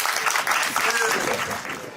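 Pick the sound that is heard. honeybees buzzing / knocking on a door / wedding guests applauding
wedding guests applauding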